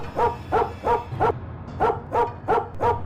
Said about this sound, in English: My dog barked a lot